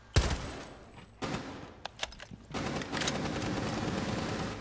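Gunfire from a Rainbow Six Siege match rings out in a loud opening shot, then scattered single shots and sustained rapid automatic bursts, with no speech over it.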